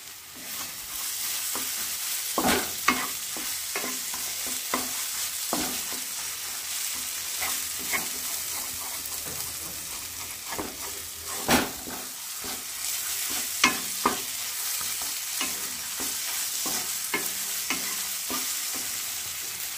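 Spice paste for palak chicken sizzles and spits steadily in oil while a spoon scrapes and knocks against the pan in irregular strokes, close and continuous, with no voices.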